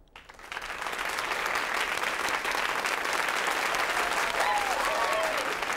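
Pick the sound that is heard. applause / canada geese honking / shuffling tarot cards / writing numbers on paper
applause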